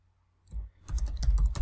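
Keys clatter on a computer keyboard as a new name is typed for an Excel worksheet tab, a close, quick burst of several clicky keystrokes after a brief click, with no talking.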